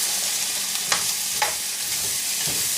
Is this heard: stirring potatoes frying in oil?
yes